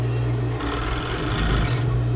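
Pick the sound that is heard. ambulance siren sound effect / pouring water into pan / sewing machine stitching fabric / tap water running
sewing machine stitching fabric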